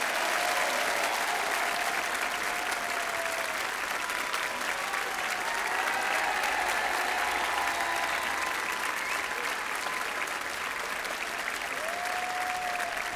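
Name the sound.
TV audience applauding a singer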